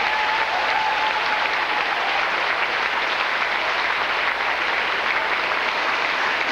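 Big round of applause from a theatre audience at a stage hypnotist show, dense and loud throughout, a continuous wash of many hands clapping close by with no one speaking.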